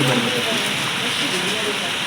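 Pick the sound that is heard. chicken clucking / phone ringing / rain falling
rain falling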